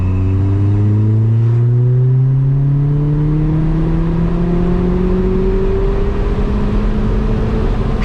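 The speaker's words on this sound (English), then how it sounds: "We're going to do a third gear pull." A hybrid-turbo widebody Ford Fiesta ST pulls hard in third gear, its engine note rising steadily and loudly from low to high revs with no talk over it.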